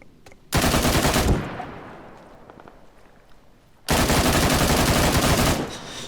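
A PKP Pecheneg machine gun fires in ARMA 3 in two long, loud sustained bursts, each about a second and a half, separated by a fading echoing tail, with no talking.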